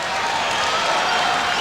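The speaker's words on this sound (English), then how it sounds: "the crowd appreciates the effort of the two" A wrestling crowd at the 2000 Dapper Dan Wrestling Classic applauds steadily for the whole stretch, a dense, loud wash of clapping with no clear breaks.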